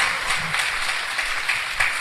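Church congregation clapping during an evangelistic service, a dense steady wash of many hands with a few louder swells, fairly distant and fairly quiet.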